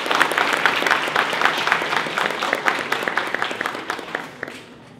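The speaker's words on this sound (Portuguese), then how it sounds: "solicito uma salva de palmas para..." An audience at an economics seminar on the Brazilian economy gives a round of applause, steady dense clapping that carries on before thinning and fading near the end.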